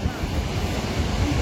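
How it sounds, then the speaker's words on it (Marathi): Thoseghar waterfall cascading during heavy rain, a dense continuous roar of falling water filling the air, loud and steady with no break. "हा धबधबा इथं पडतोय"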